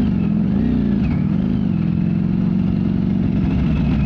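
A 2022 Ducati Streetfighter V4S engine running as a steady loud mid-pitched drone, with a brief rise and fall in pitch near the start and no voices.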